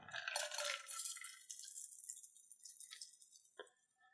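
A blackberry balsamic Manhattan cocktail pours through a hawthorn strainer and a fine mesh strainer, a soft continuous trickle and patter of liquid close by, with a few faint drips and a light clink near the end.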